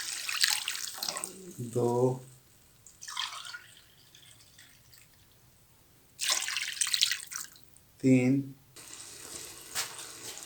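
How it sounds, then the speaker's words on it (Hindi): Glasses of water are poured into a cooking pot of chicken nihari, several separate splashing pours of a second or two each with pauses between, while a person counts aloud in between. "4 गिलास पानी लगा दिया हमने।"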